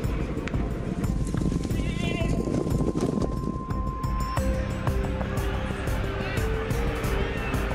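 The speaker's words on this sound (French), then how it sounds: "18 chevaux, 2400 mètres de course en moins de 3 minutes." Eighteen racehorses' hooves pound in a dense, rapid drumming during a 2400-metre race, under a loud crowd and an excited announcer calling over the noise.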